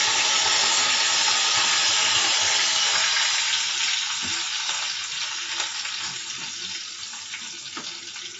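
A Chennai-style fish curry base with fenugreek sautéing in hot oil, an intense hissing sizzle that gradually fades, with occasional clinks of a ladle toward the end.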